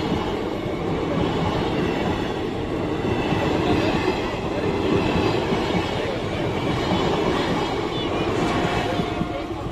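A train rolls along with a continuous rumbling clatter of wheels on track, loud and steady from start to end, with some voice mixed underneath.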